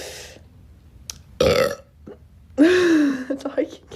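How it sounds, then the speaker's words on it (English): Two loud, throaty burps sound close to the microphone, a shorter one followed by a longer drawn-out one, with brief voice sounds between them. "More burps."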